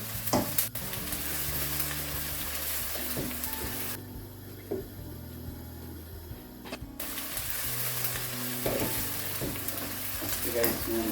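Aubergine and potato curry is stirred in a sizzling pan, with repeated scrapes and knocks of the spoon over steady frying. The sizzle drops briefly in the middle and then resumes.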